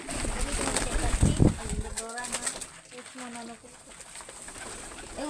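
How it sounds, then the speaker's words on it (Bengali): Pet pigeons in a home coop coo in soft, repeated throaty phrases close by, with a brief flutter of wings early on and a person talking over the birds at the start. "এগুলা পোষ বানানো কবুতর।"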